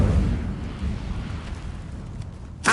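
The Incendio fire spell cast in Hogwarts Legacy, a low rumbling whoosh of flame that decays gradually and then gives way to a sharp burst at the end.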